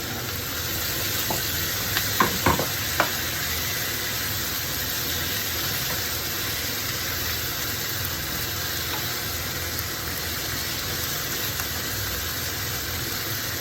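Chicken pieces for kare-kare fry in a pan with a soft, steady hiss, broken by a few brief clinks early on.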